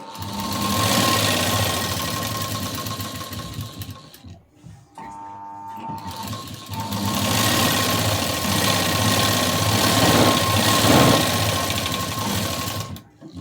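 A sewing machine stitches the lining into a blouse, running in two long steady bursts with a brief pause in between, close and loud, with no talking.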